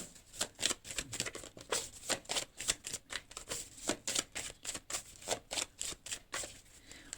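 Playing cards shuffled by hand during a tarot-style reading, a rapid run of crisp riffling slaps and flicks at close range, steady and busy throughout with no talking.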